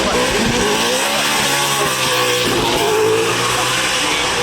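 A drift car with a Nissan VR GT-R engine runs at a motorsport festival, its loud engine note rising and falling with revs while tires scrub and squeal, heard close and continuous against a busy outdoor background.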